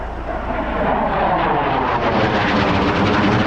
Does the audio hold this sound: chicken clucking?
no